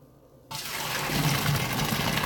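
Tap water gushes over strained pasta in a sink. It starts abruptly after a brief quiet moment, then runs as a steady, close splashing stream.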